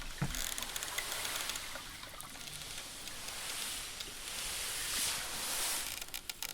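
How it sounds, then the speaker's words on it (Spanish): Water laps softly and steadily around floating mussel rafts at sea once the boat engines have stopped, a continuous close wash with small splashes and faint creaks, no voices. "solo se escucha el sonido del agua"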